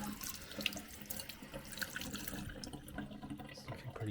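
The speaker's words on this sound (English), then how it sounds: "You give that a rinse." Tap water runs steadily and splashes as rust is rinsed off a vintage coffee grinder, a continuous close gush with small shifting spatters that eases slightly toward the end.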